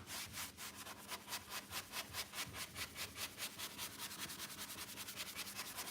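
A paint brush scrubs back and forth on a piece of furniture in a quick, even rhythm of soft, dry, bristly strokes, close and fairly quiet, with no talking.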